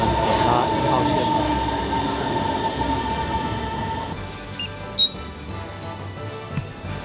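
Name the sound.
riding a Suzhou metro Line 1 train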